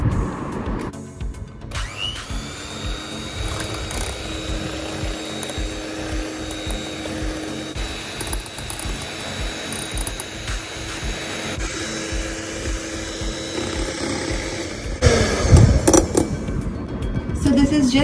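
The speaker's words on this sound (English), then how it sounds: "now I'm going to whisk this till it becomes very nice and fluffy and airy." Egg whites and vanilla extract being whisked for coconut macaroons, a steady mechanical whirring that runs continuously for most of the stretch, with a louder burst of clattering near the end.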